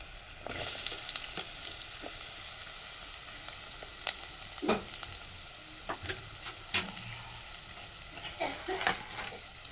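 Chopped onion, crushed garlic and a spoon of turmeric fry in a pan with a steady sizzle, broken by occasional scrapes and clicks of stirring, close and moderately loud with no talking.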